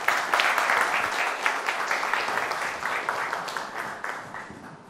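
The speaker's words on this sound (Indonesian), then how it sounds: "Boleh tepuk tangan hadirin sekalian?" Studio audience applause on a televised political talk show, a burst of many hands clapping that starts loud and gradually tapers off, without speech over it.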